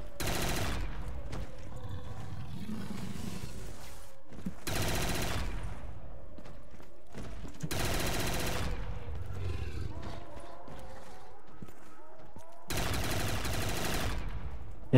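Bursts of automatic gunfire aimed at a boss in a Black Ops 3 custom zombies map, loud and broken into several separate volleys with quieter game sounds and low roars between them.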